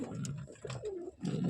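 A pigeon coos close by in its loft on a cold morning, giving a few low, throaty rolling calls with short pauses between them.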